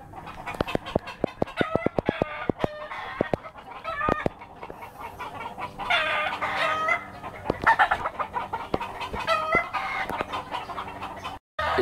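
A fighting rooster clucks in quick bursts and then lets out loud, close crows, with sharp repeated calls from the fowl between the crows and no talking over them.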